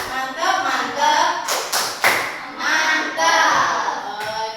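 A group of people performs the 'tepuk mantap' rhythmic clap, a steady series of hand claps in a patterned beat, close and fairly loud with voices chanting along throughout.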